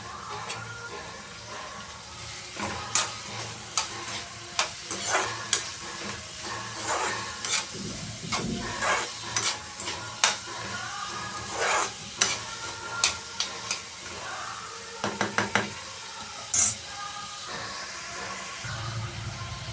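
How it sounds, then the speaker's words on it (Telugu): Green chillies and onions fry in hot oil, a steady soft sizzle with repeated clinks and scrapes of a stirring spoon against the pan throughout. "ఆయిల్ వేడి ఎక్కిపోయిందండి ఇప్పుడు మనం పచ్చిమిర్చి రెండు ఆనియన్స్"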